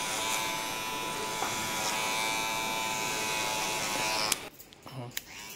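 A BGR B600 electric hair clipper with a number 2 guard cutting hair, a steady close buzzing drone for several seconds that cuts off near the end, followed by faint handling noises.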